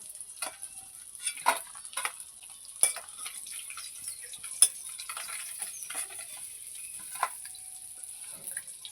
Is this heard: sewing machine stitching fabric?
no